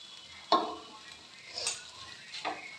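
Chopped vegetables and tomato get stirred in a pan, with a few soft scraping, clinking strokes of a utensil spaced about a second apart, quiet and close.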